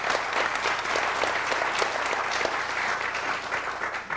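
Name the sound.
studio audience applause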